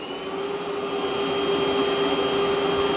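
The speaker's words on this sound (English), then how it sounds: "Lifting the mop pad so that it can vacuum." Roborock Qrevo Curv robot vacuum running, a steady close whirring suction hum with a constant high whine and no breaks.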